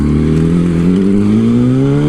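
A 2008 Yamaha R1 motorcycle engine running hard while ridden, a loud close steady drone with the pitch climbing smoothly as it revs.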